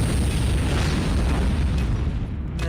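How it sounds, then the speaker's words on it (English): A nuke detonation in Call of Duty Mobile, triggered with the ICR Dark Matter on a new map: a loud, sustained roaring blast rumble that fills the whole moment before easing slightly at the end. "I got the nuke with the ICR on the brand new map."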